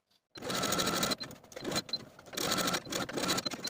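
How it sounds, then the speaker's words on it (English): A sewing machine top stitches a garment close to a serged seam. It runs in steady close bursts of rapid mechanical whirring and clatter, breaks briefly for a pivot, then runs on again with no talking. "I'm going to pivot straight across and continue top stitching close to the serge seam on the other side all the way back to the top"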